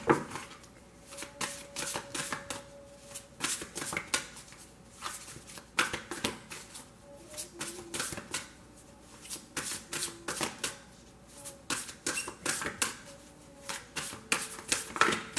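Tarot card decks are shuffled by hand in repeated crisp riffles and flutters, with short pauses between bursts, close and alone.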